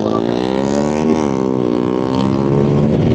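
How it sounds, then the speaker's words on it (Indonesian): A loud motor engine runs close by for the whole stretch, a steady droning roar with rising and falling harmonic pitch like a motorcycle passing, with no talk over it. "berisik banget itu suara motor"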